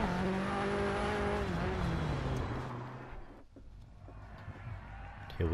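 A Ford RS200 Group B rally car sits at the rallycross start in DiRT 4, its engine revving with a falling, harmonic-rich tone that settles into a lower idle and then eases off.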